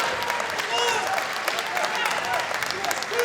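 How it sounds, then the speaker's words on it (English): A wrestling arena crowd at an NWA event cheers and applauds after a moonsault to the outside, a dense, loud roar of clapping and shouting throughout. "That got the crowd fired up"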